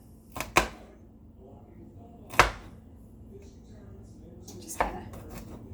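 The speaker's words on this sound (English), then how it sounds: "And we're going to chop that up." A knife chops garlic on a cutting board in three sharp, separated knocks spaced a couple of seconds apart, close and distinct against a quiet room.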